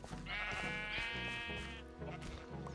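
Sheep bleating in Minecraft, a drawn-out wavering baa followed by shorter bleats, close and clear over faint game sounds.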